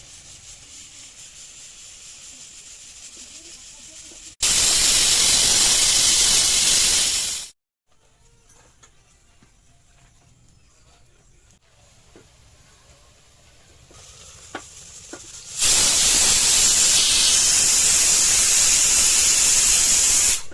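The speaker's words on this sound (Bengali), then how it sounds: "তেলটা গরম হয়ে গেছে, এবারে লুচিটা ছেড়ে দিচ্ছি।" Luchi, small rounds of dough, dropped into hot oil to deep-fry: two loud bursts of steady hissing sizzle, separated by a quieter stretch of faint kitchen noise, with no talking.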